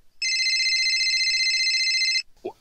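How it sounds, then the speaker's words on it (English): Telephone rings once, a loud, close electronic trill lasting about two seconds, followed by a brief voice. "We're getting a phone call."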